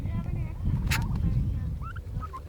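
Turkey toms on a homestead, with low rumbling pen noise under brief warbling gobble-like calls near the end, moderately close, no talk in between.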